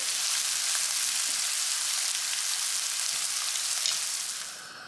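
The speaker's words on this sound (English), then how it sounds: "add in minced garlic and saute it all together" Sausage and minced garlic sizzle steadily in a hot pan, a loud, close, hissing fry that fades slightly at the end.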